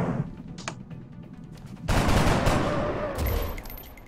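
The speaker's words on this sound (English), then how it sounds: "With a machine pistol." Machine pistol gunfire in the video game XCOM erupts as a loud, dense burst of rapid shots. It follows a few quieter game sounds and rings out afterward.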